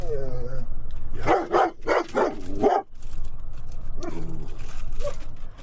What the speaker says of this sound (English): whenever she's got an opportunity to bark at somebody